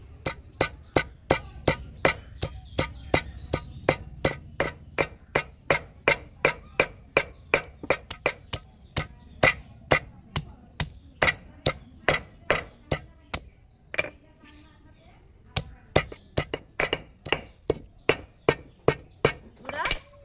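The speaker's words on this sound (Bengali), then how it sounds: "এবার এটা আমি শিলপাটায় থেতো করে নেব।" Tender coconut flesh is pounded on a stone shil-pata grinding slab with a steady series of sharp, close stone-on-stone knocks, about two per second, that pause briefly and then resume.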